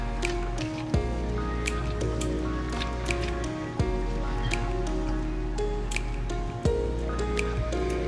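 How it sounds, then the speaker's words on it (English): Wet, freshly drained potatoes set out on a kitchen towel give soft, steady squishy and dripping sounds throughout, close and continuous with a few sharper wet thumps. "put my potatoes out on this towel so I can totally dry them"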